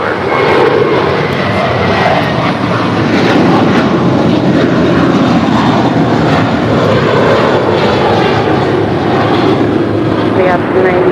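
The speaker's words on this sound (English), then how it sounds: "Got the Singapore 777-300ER now pushing back from the gates" A Singapore Airlines Boeing 777-300ER pushes back from the gate at LAX while a loud, continuous roar of jet engines fills the air, with voices faintly audible beneath it.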